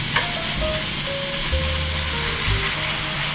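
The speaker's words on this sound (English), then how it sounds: "I'll put some olive oil in the frying pan, and now for the mince. I'll cook that off and I'll brown it off." Beef mince sizzles in olive oil in a frying pan, a loud, steady crackling hiss with a few faint tonal clinks in the background and no talking.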